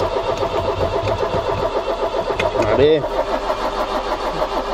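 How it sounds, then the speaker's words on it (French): An Iveco 35-8 diesel engine cranks and tries to start, a steady rhythmic churning with a brief surge near the end, while a voice speaks briefly. "j'aimerais bien de toute façon le démarrer pour évacuer le gasoil qui s'est accumulé dans l'échappement"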